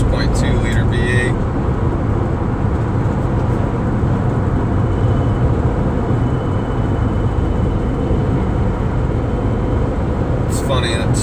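An older Ford Raptor with a 6.2 liter V8 engine gives off a loud, steady engine rumble and road roar that holds unbroken throughout, with faint brief clicks at the start and end.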